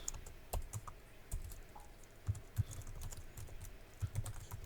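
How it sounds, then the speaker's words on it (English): Quiet, irregular clicking of keys being typed on a computer keyboard, close by and faint, in short uneven bursts with no talking. "we're going to type in unsold"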